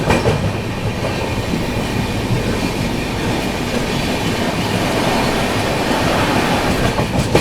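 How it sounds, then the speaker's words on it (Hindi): Howrah Rajdhani Express running through Andal Junction without stopping, a loud, steady rumble of rolling wheels and carriage noise with faint clickety-clack, close and continuous throughout. "यहाँ पर अंडाल जंक्शन स्किप कर रही है अपनी हावड़ा राजधानी"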